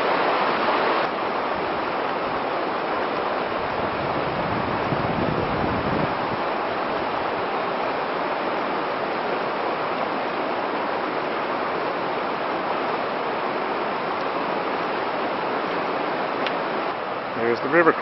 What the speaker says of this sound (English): There's the river crossing.